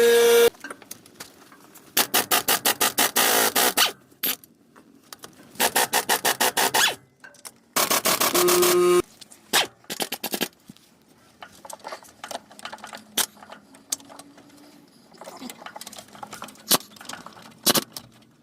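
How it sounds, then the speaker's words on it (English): Head bolts being loosened and removed from a Toyota 3.4L engine with a blown head gasket, heard as several bursts of harsh ratcheting rasp separated by pauses, then lighter scattered metallic clicks and clinks of tools and bolts, with no talking. "Removing the head bolts."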